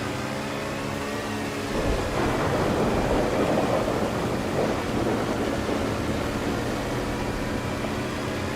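Thunder and rain in a roleplay video game: a steady hiss of rainfall under a deep, rolling thunder rumble that swells, lingers and slowly fades, loud and with no voices.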